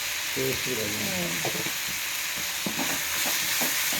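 Ginger frying in a pan with salt for aloo paratha stuffing, a loud constant hiss of hot oil with a person talking over it throughout.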